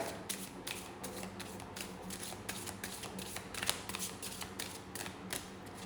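Tarot cards are shuffled in a steady run of soft, papery riffles and flicks, repeating close to the mic at a quiet level with no voices.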